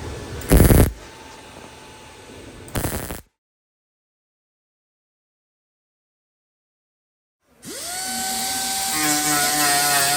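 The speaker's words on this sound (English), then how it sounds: "is grinding the welds up" Angle grinder working over the welds on the rocker panel of a 1997 GMC truck, a loud steady whine that winds up and holds after a pair of short bursts and a long silence.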